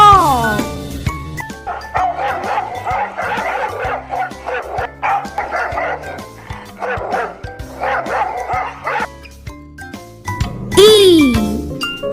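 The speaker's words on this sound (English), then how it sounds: "D for dog." A dog yips and barks at the start and again near the end, set against bouncy children's music with jingling bells and a sung voice.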